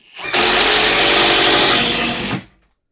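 A Procraft Industrial ID20A impact driver, rated 180 Nm and 3500 rpm, drives a dull screw in one loud, close, continuous burst of about two seconds, ramping up quickly and cutting off sharply.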